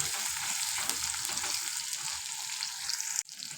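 Chopped onion and cumin frying in mustard oil, giving a steady hissing sizzle with light stirring, close and even, then a sudden brief dropout near the end.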